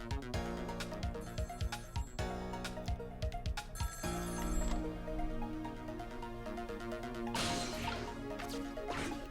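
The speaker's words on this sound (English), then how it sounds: "And then the phone rings" An in-game telephone rings in Ghost Trick Phantom Detective, repeated bell-like trills sounding loud over a busy game music backing with sharp percussive hits.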